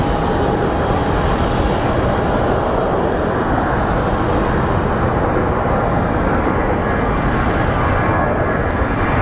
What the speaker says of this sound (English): we have what appears to be a Southwest Airlines coming up next